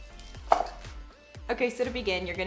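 A knife quickly minces large garlic cloves on a board, a run of sharp close chops, each a crisp thud, spaced and then more rapid, with no talk.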